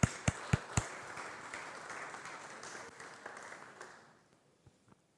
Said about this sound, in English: please put your hands together, give a bit of cheer